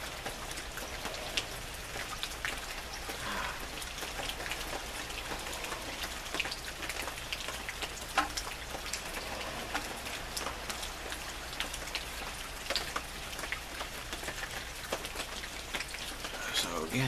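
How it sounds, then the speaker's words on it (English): Steady rain patters and drips on bushes and shrubs outdoors, a dense, even hiss with scattered closer droplet taps throughout. "this rain is making all sorts of drip, drop, everywhere"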